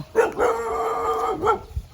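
A single dog gives one drawn-out, howling bark with a rising start and falling end, close and fairly loud outdoors.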